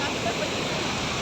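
Heavy El Niño rain pours over flooded roads in Nairobi, a dense, steady hiss of falling water and splashing that fills the whole moment, with a voice partly buried in the noise.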